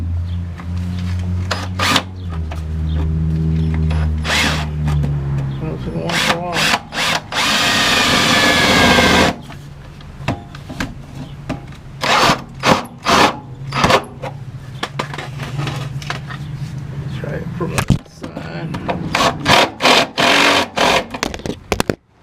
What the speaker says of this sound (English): Now we'll put our drill up here.